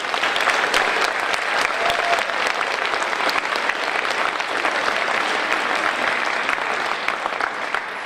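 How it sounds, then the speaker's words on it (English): Sustained audience applause for middle school band students at a school concert, a dense steady clatter of many hands clapping in a hall, loud and unbroken throughout with no talking over it. "Let's give those students a round of applause."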